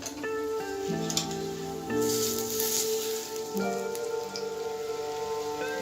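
Bread pakoda sizzles steadily in hot frying oil after being turned to cook the other side, a continuous crackling hiss with soft music playing underneath and no talking.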